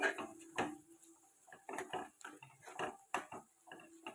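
A metal spoon stirs and scrapes ginger garlic paste masala for suvarnagadde (elephant foot yam) masala in a pan, close irregular clinks and scrapes in quick bursts, fairly quiet, with no talk over them.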